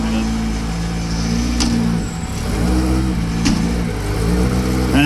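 A historic rally car built by Ville Jauhiainen, able to rev to 10,000 rpm, idles and revs loudly and close by at the 2024 Lahti Historic Rally ceremonial start, with people talking over the engine throughout.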